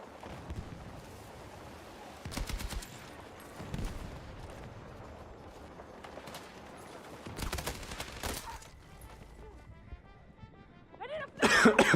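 Gunfire in the multiplayer shooter Battlefield 6, heard as scattered sharp bursts and short volleys across the span with a loud cluster at the end, over a busy game soundscape.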